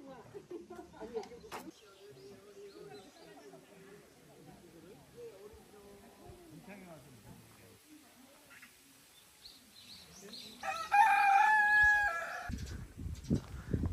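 Roosters and chickens at the Naganeupseong folk village in Suncheon, Korea: faint clucking beneath steady conversation, then a louder rooster crow rising near the end while people keep talking.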